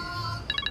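A mobile phone starts ringing partway through with quick, pulsing electronic tones, after a brief stretch of low background sound.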